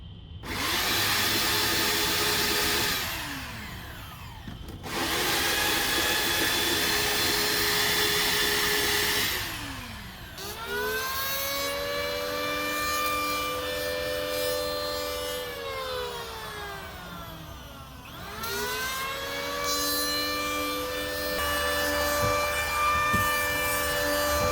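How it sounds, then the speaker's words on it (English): A Wen belt sander works across wooden shed deck boards, a loud continuous motor whine with abrasive rubbing that stops briefly and restarts several times, close and alone. "If I do have the video out for this belt sander, I'll leave the link in the description at the bottom."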